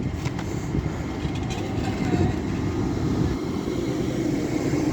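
An LNER Azuma train rolls past at Doncaster station on the East Coast Main Line with a steady, fairly close low rumble that swells slightly midway and holds to the end.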